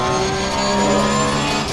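A race car at the Nurburgring in the racing game Assetto Corsa Competizione accelerating at full throttle, a steady, loud, close engine drone with its pitch climbing slightly across the short stretch.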